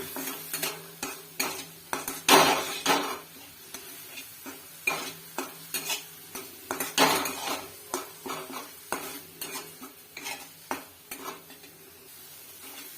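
A spoon scrapes and clinks against a pan as onion, garlic, chili and turmeric masala are stirred, close up. The pan sizzles softly under irregular metallic strokes.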